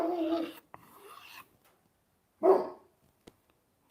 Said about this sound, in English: What you barking at, boy?